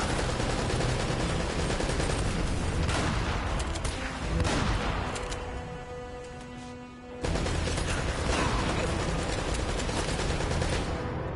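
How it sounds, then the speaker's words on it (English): Sustained gunfire and mounted turret shooting in the video game Uncharted, dense loud bursts of shots and booms that thin out briefly midway before resuming at full intensity. "Okay, I'm hearing gunshots besides the turret."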